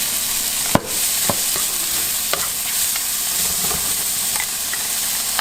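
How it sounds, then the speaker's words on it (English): Vegetables with bacon and celery sautéing for Cantonese-style fried rice, a steady close sizzle with sharp utensil clinks and scrapes against the pan, one louder knock near the start. "sauteing the vegetables there. Gonna add more stuff. Gonna add bacon,"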